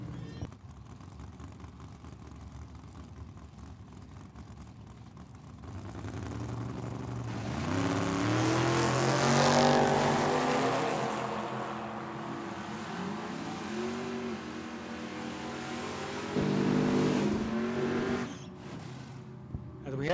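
A Chevelle and a Camaro drag racing at Tucson Dragway, engines swelling from a distant rumble into a loud, sustained roar that peaks mid-clip and then trails off, with an announcer talking over the noise.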